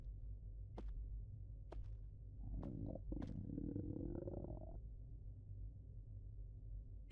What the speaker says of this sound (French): Ah, c'est son ventre qui a gargouillé.